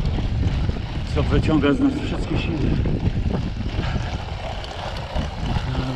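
Strong wind roars across the microphone during a hot road cycling ride in Pomerania, a constant rushing buffet that runs throughout while someone talks over it.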